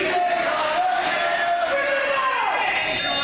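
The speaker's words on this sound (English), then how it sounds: "And you hear the crowd here in the Mecca with chants of PJ's gonna kill you" Crowd at an Invictus Pro Wrestling match in the Mecca chanting 'PJ's gonna kill you', a loud, continuous roar of massed voices with rising and falling chant contours throughout.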